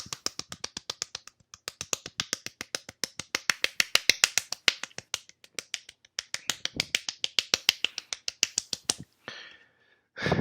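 Long runs of sharp, rapid claps in a spooky Halloween story recording, crisp and close, coming in quick even bursts with short breaks and a final scuffle at the end.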